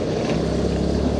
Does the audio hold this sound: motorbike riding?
yes